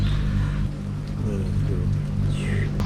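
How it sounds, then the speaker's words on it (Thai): Steady rain falls at a beachfront resort on Koh Tao, a dense, constant patter heard close and continuous with no talking. "ฝนตก ตกทั้งวันตกตั้งแต่เมื่อวานตอนเย็นหลังจากเราดำน้ำเสร็จนะครับ"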